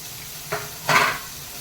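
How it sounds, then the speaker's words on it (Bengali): Spice paste of cumin, black pepper, garlic, salt and turmeric frying in a pan for a spicy crab curry, with a brief sizzle then a louder hissing burst as it is stirred, nearby and alone. "এই আমার মশলা কষানো হয়ে গেছে"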